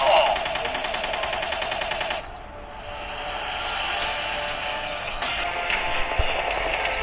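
Rapid gunfire from a Free Fire / PUBG mobile shooter game fills the opening two seconds, followed by quieter in-game sounds and a few more sharp shots.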